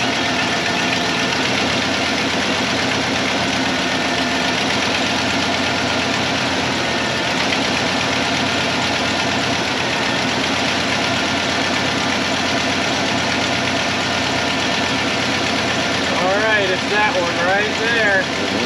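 A 1995 Ford F-150 pickup engine idles steadily and loudly nearby, running on fewer than all eight cylinders, a continuous rumbling drone with a slight knock that runs throughout without stopping.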